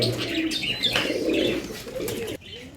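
Pigeons coo close by in a loft, with a steady run of throaty, murmuring calls and a few higher chirps layered together before a sudden drop in level near the end.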